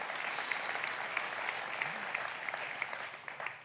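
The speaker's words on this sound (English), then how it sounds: "Yeah, you can clap for that." A church congregation applauds during a Sunday service, a steady wash of clapping from many hands lasting a few seconds.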